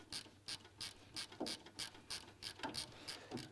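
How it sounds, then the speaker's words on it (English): A hand ratchet clicks in quick, regular bursts while loosening steering rack cap bolts, roughly ten crisp pawl ticks close up and fairly quiet, with no talking. "So you undo these bolts completely"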